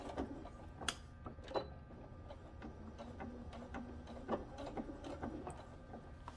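A sewing machine topstitches a zipper onto the inner pocket of a tote bag, producing soft, steady mechanical whirring with light ticking and a few sharper clicks, heard close and quiet with no voices.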